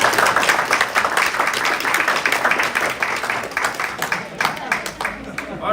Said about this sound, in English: I reckon that was a pretty good applause.